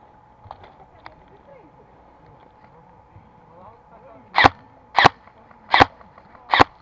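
Airsoft guns fire during a game, four sharp snapping shots spaced about half a second apart near the end, with a few fainter distant pops earlier over quiet outdoor background and voices.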